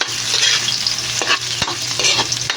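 Onion frying for pork giniling is stirred in a pan, giving a steady close sizzle with repeated scraping strokes of the spoon across the pan.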